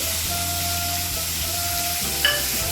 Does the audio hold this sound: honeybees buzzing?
no